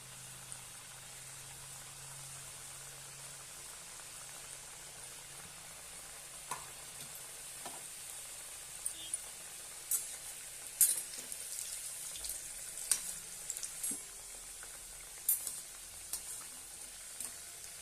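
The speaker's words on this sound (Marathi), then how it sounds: "मस्त अशा आपण खरपूस तळून घेऊया।" Thin rolled spinach mathri puris deep-fry in hot oil with a soft, low bubbling hiss, later joined by sharper crackles and occasional ladle clinks, faint and close.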